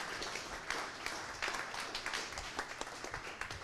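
An audience at a tech conference talk claps for a speaker, a steady wash of moderate applause from a room full of people, with no voices over it.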